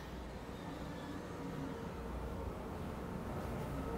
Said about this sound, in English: So the bulldozers, yeah, they're actually coming from the soundtrack.